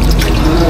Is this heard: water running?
yes